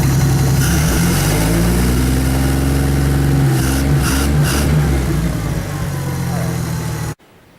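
A truck engine idles steadily for about seven seconds, a loud, close, even rumble with a few brief revs near the middle, and then it cuts off abruptly at the end.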